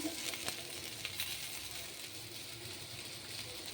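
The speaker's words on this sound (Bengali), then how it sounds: "পটলটা খুব সুন্দর ভাজা হয়ে গেছে" Pointed gourd (potol) frying in oil in a pan, a faint, steady sizzle with soft crackles, heard close and alone.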